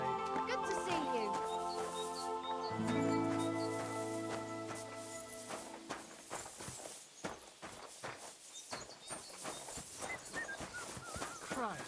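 Mutt the dog whimpers and whines in Kingdom Come: Deliverance 2, high thin tonal calls over game music, then horse hooves clip-clop and footsteps in a steady rhythm, with a voice speaking.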